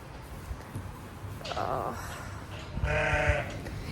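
Sheep bleat during lambing on a farm, with two or three loud, close, wavering calls and a person speaking between them.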